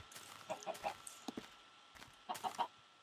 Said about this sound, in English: Oh, chickens, I gotta breed you.